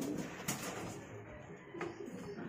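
Breeder pigeon hens coo softly in a temporary pen while their loft is being renovated, with low repeated coos and faint rustling heard at a quiet, moderately close level.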